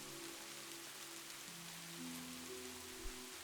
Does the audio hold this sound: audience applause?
no